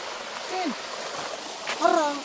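Flowing water at the Aare waterfall makes a steady, moderate rushing wash throughout, with a person speaking briefly over it.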